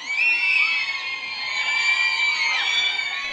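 Schoolgirls cheer for contestants at a crowded Bangkok To Be Number One competition event, their high-pitched shouts and screams blending into one loud, sustained roar that barely dips from start to finish.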